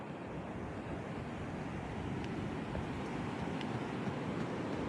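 Ocean surf rolls steadily along the Victoria coast in Australia, a continuous broadband wash of breaking waves with wind buffeting the microphone, loud and unbroken throughout with no voices.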